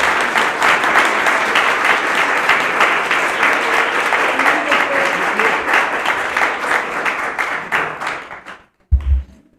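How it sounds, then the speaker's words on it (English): An audience at an art exhibition opening gives a sustained round of dense, even clapping, loud and close, slowly fading near the end before a brief thump. "give Victor a round of applause."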